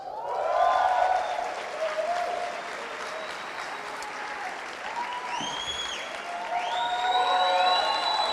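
An audience claps at a church gathering, a steady round of applause with some whistles and cheers rising near the end.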